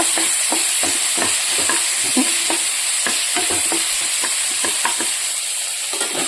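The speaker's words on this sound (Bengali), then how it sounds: "এদিকে আমি বটবটিটা বসিয়ে দিয়েছি ভেজে নেব" Bori lentil dumplings frying in a pan, a constant loud sizzle with frequent sharp pops and crackles throughout, no voices.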